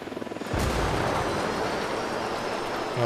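A helicopter in the tactical shooter Ghost Recon Wildlands during co-op play, a sudden loud roaring blast that settles into a steady, dense rotor and engine drone, with no talk.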